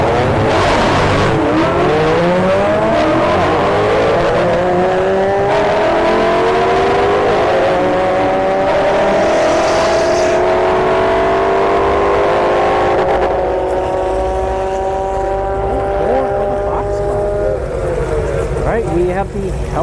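A Honda Civic drag racing at Bradenton Motorsports Park, its engine rising in a long sustained climbing whine through the gears, loud and close for most of the run before easing off near the end.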